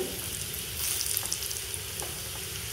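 Garlic and chili tempering sizzles in hot oil, a steady close crackling fry with small pops scattered across the moment.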